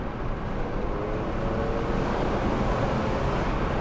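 Turbocharged single-turbo 1JZ VVTi Toyota Crown accelerating hard in second gear, a steady loud engine drone with rising harmonic tones throughout, heard from inside the car with no talking.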